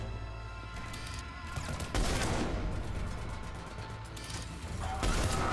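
Sustained gunfire from a SpongeBob-themed shooter game, a dense crackling stream of shots that runs without a break, with a heavier burst in the middle and near the end.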